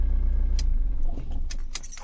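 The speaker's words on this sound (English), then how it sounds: "I'm going to shut down the car." A car engine idles and then cuts off, followed by a few bright jangles of keys close by, with no talking.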